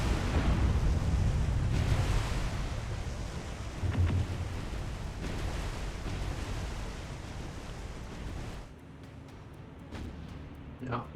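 Heavy naval guns of a warship's rear turret boom in War on the Sea, deep rumbling blasts within a dense, continuous roar of battle, with a sharper report near the middle and quieter, thinner background toward the end.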